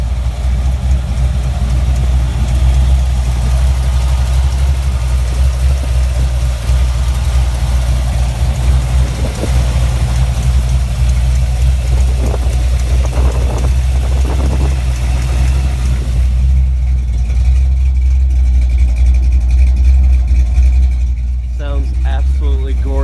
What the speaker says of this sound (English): I have the car running right now.